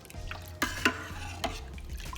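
A spoon stirring yogurt starter into milk in a pot, with soft continuous swishing and a few sharper scrapes and clinks against the side, close and fairly quiet.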